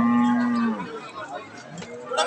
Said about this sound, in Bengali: 22 লিটার দুধের গরু